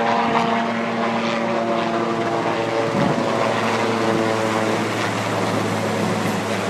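A presidential helicopter lifts off from the White House back lawn. Its loud, steady rotor drone and engine hum run continuously, close at first and then carrying on as it flies away.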